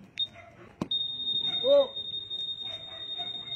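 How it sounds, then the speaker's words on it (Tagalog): A couple of short electronic chirps, then a steady, piercing high-pitched alarm tone from a Honda ADV 160 scooter's anti-theft alarm drones on without a break over faint background noise. "ganito naman siya kapag i-alarm"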